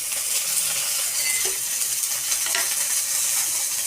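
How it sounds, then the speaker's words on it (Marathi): Green chillies and a little garlic roasting in a pan give a steady, loud, broadband sizzle and crackle, with a few soft scrapes and light metallic ticks from stirring, close up and continuous. "हे बघा मिरच्या भाजतात, त्याच्यात थोडासा लसूण पीठ टाकलाय"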